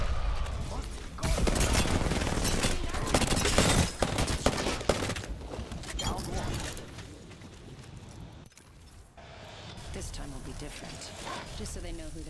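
Gunfire from the Flatline rifle in the Apex Legends video game, with loud bursts of shots and dense game effects mixed under excited talk across much of the stretch.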